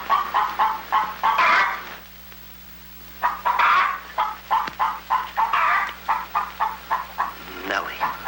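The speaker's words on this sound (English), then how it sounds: "Lay, hen, lay." A hen clucks in a rapid, rhythmic series of close, sharp calls, with people talking around it.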